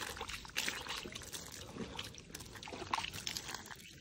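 Water poured over someone's feet to wash them outdoors in a village, a soft steady trickle and splash running for several seconds with no talking.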